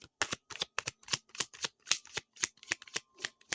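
Tarot cards are shuffled in a quick, even series of about a dozen crisp riffling bursts, close and fairly quiet, with no one speaking.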